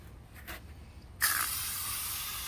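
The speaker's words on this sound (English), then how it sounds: "Now I just have a spray nozzle set on mist" A hose spray nozzle set to mist bursts on to freshly placed rapid-set concrete for a wet bar build, a sudden steady hiss that holds after a short quiet lead-in.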